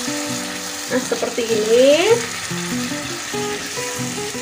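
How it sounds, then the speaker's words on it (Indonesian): Yellow spice paste for a beef dish sizzles and bubbles loudly in a pan just after water is added and stirred, a hissing frying texture with someone speaking briefly over it. "kita tunggu sebentar sampai kita aduk-aduk sambil tunggu bumbunya mendidih"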